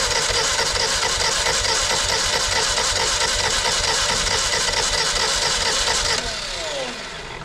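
A motorcycle engine, just fitted with new ignition points and condenser, runs loud and steady for about six seconds, then drops in level as it winds down.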